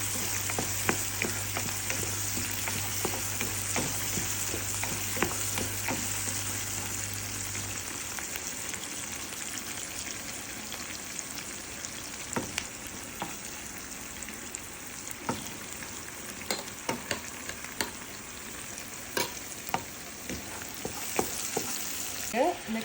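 A tempering sautés in a pan for Batticaloa-style squid (kannava) curry, a steady sizzle with scattered stirring scrapes and clicks running on without speech.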